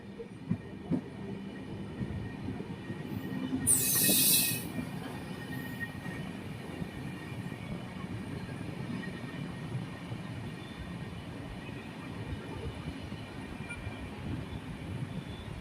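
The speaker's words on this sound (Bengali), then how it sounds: "ট্রেনটি শিলিগুড়ি রাজা ভাত খাওয়া স্টেশন ছেড়ে দিল।" The Mahananda Express, a passenger train, pulls out of Rajabhatkhawa station near Siliguri with a steady, continuous rumble of wheels and cars. A brief high squeal or whistle cuts through near the start. No voices are heard.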